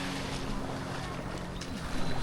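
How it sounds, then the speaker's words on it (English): Boats out on the sea off a Playa del Carmen beach, where banana boat rides run, give a steady motor drone under continuous wind and surf noise. "Banana boat rides."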